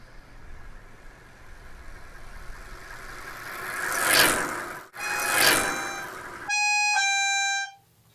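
A motorbike passes by twice with its engine pitch dropping as it goes, the noise swelling and fading each time, followed by a steady tone that stops abruptly.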